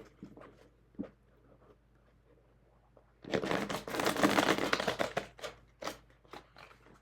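A thin, flexible paper tarot deck is shuffled close by, a dense riffling flutter of cards after a few quiet handling taps, followed by scattered flicks.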